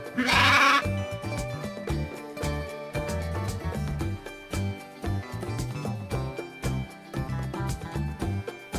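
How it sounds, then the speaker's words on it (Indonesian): A sheep gives a short, loud bleat at the very start, after which a busy layer of music and background noise continues without any speech. "Sheep."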